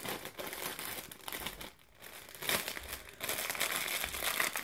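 Paper crinkles and rustles close by as a subscription-box item is unwrapped, in steady bursts with a short lull partway through and no talking.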